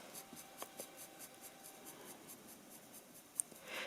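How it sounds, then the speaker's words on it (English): A pencil shades and blends on paper while a mouth is drawn, giving soft rhythmic scratching strokes close up and quiet, with a brief louder rub near the end. "I'll go back and forth doing more layers with my pencil and then a little bit more blending."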